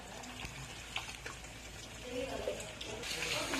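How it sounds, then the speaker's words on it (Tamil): Water pours steadily into a pot of Chettinad rasam, a soft continuous splashing and gushing, fairly quiet and close. "இப்போ ரசத்துக்கு தேவையான அளவுக்கு எக்ஸ்ட்ரா வாட்டர் ஆட் பண்ணிக்கலாம்."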